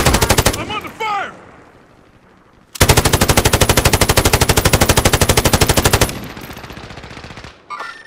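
An M249 machine gun fires in Modern Warfare, a loud sustained burst of rapid, evenly spaced shots lasting about three seconds, preceded by a short earlier burst and followed by a brief final volley.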